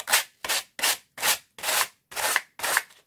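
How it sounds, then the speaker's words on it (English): Seven rhythmic rasping strokes of a sanding block with sandpaper rubbing down along wooden edges, each a short scratchy swipe with brief pauses between, close up and alone. "I can put the sanding block and some sandpaper, and it's just a matter of going around the edges"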